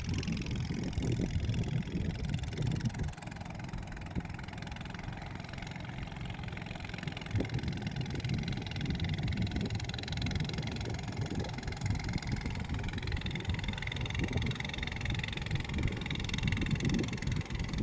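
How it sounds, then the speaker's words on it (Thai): A long-tail coastal fishing boat engine running loud and steady for a long stretch, a rough, throbbing motor drone with slight variations in pitch. "เสียง ลั่นมาเลย ก็ คือเรือหางยาวประมงชายฝั่ง"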